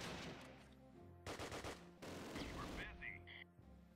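Bursts of gunfire from the World War II tactics game Close Combat: Wacht Am Rhein, with rapid machine-gun volleys and scattered shots, the heaviest clusters coming midway through and a few sharper whistling effects near the end.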